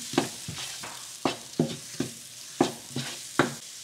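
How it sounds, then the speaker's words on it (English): Rhythmic scraping and stirring as spices fry in onion-tomato paste for egg curry, a soft sizzle underneath, about nine distinct strokes at a steady pace, close by. "now we're going to saute this till the oil begins to separate"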